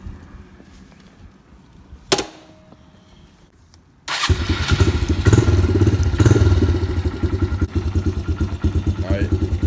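A Honda CRF125 supermoto fires up after a sharp thump, then its small single-cylinder engine idles and revs with a rapid, loud putter nearby as someone speaks briefly.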